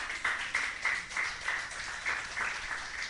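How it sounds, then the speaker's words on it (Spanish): Church congregation clapping during a Spanish-language worship service, a soft, somewhat distant stream of applause with a regular rhythmic pulse. "Denle un aplauso al Señor."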